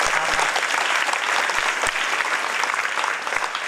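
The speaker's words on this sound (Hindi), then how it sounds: "पापा के लिए तालियां।" An audience claps warmly after a speaker's prompt, with a thick, even burst of applause lasting a few seconds and only a few louder claps poking through.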